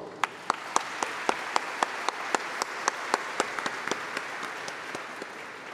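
An audience applauds, with a few sharp individual claps standing out at a steady rhythm over a softer background of clapping.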